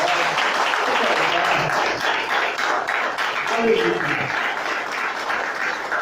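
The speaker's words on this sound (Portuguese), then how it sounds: "Pode aplaudir." A church congregation applauds during a sermon, a dense, steady clapping that carries on throughout, with a voice calling out briefly over it.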